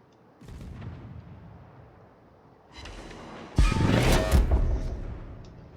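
Naval gunfire from the Soviet cruiser Kirov in World of Warships, a distant muffled boom followed by a louder, sharper salvo with rumbling tail, over quiet game ambience.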